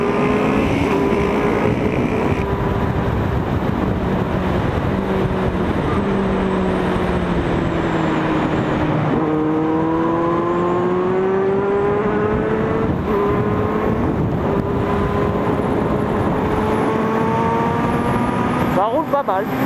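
A Kawasaki Z800e motorcycle ridden on a road, a loud continuous engine roar with wind noise, its pitch climbing and dropping through gear changes, while a person talks over it.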